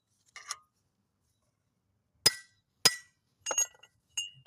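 Sharp metallic strikes of a hammer on a big chisel against a hub bearing on a 2014 Volkswagen, five separate close blows spaced irregularly with silence between.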